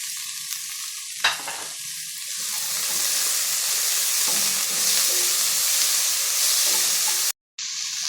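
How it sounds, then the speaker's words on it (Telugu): Capsicum and peas frying in oil in a pan for vegetable fried rice with purple cabbage, a steady close sizzle with a few stirring scrapes and clinks, briefly cut off near the end, no talk. "ఇప్పుడు క్యాప్సికమ్ క్యాప్సికమ్ కూడా వేసి కొద్దిసేపు వేయించుకున్నాము"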